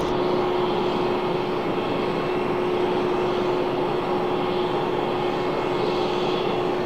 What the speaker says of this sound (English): I don't know if you guys can hear that howling, but that's the 777 all the way at the other end